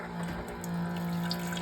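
A Lifewave X20 machine dispenses water into a glass, a steady trickling pour with a low pump hum running underneath, close and continuous.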